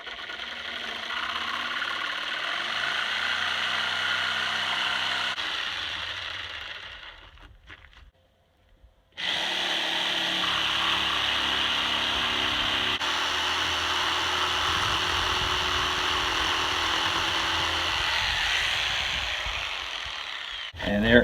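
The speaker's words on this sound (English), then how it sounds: "I have my super fine blade in my jigsaw, and we're going to see if we can do a fairly neat cut here." A jigsaw fitted with a super-fine metal-cutting blade saws through a board for a pedal board. The buzzing runs steadily and loud, stops briefly around the middle, then resumes and continues to the end.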